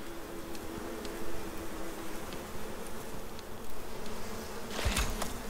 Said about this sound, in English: Am I going to get killed by bees?